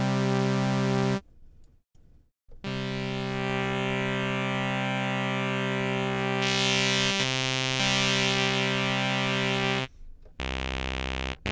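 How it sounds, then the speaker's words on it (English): A synth run through the Audiothing Valves tube valve overdrive plugin, sustained buzzy notes with a thick, saturated, distorted tone, loud and continuous with a few short breaks and pitch changes, no voices. "is the valve, the tube valve overdrive, which is different from, say, a digital overdrive or distortion."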